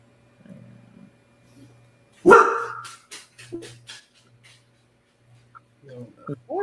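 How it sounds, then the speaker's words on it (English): Dog named Marsha barking indoors: one loud bark followed by a few shorter, quieter yips, with people talking before and after. "Marsha over there trying to bark"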